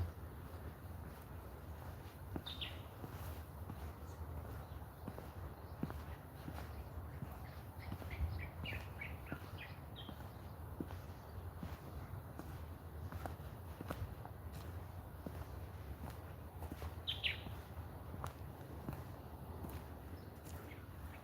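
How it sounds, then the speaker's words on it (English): Faint bird chirps come in a few short, scattered bursts in Kenya, distant against a steady low rumble of outdoor background noise. "There's some few birds, you can hear them."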